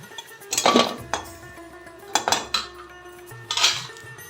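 Metal utensils clink and scrape against a frying pan as a fried batch of pea-filled dhoka is lifted out, three distinct bursts of close, sharp clatter separated by short pauses.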